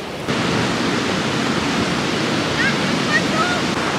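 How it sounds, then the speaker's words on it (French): Strong wind roars steadily and loudly across the microphone on Fuerteventura, a constant rushing noise with no letup. "là il y a énormément de vent"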